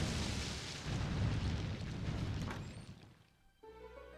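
A bomb explosion in The Legend of Zelda: The Wind Waker HD, a broad, roaring blast that rumbles and fades over a few seconds before a quieter game tone takes over, fairly loud and alone.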